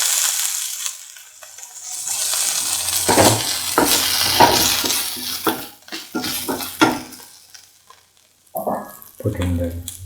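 Tomato pieces are tipped into a pan of golden-brown fried shallots and onions, with a loud hiss of sizzling followed by repeated scraping and stirring strokes of a spoon against the pan, and short pauses between them.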